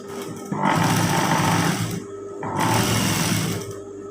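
A sewing machine stitches a trouser pocket opening in two sustained bursts of steady, rapid mechanical whirring separated by a brief pause, close and loud with no talking.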